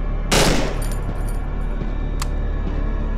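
A burst-fire rifle in Cry of Fear lets off a short, loud, crackling burst near the start. A faint metallic click follows over a steady low hum.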